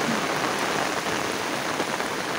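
Heavy downpour in the Uttarakhand hills, a steady dense hiss of rain hammering surfaces, loud and continuous with no pauses and no voices.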